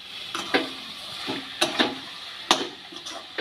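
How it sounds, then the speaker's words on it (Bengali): A spatula scrapes and stirs cabbage paturi in a wok, the mixture sizzling softly underneath as several sharp scraping strokes land at irregular intervals, close and fairly loud. "3 মিনিট পর এবার নেড়ে চেড়ে নেব।"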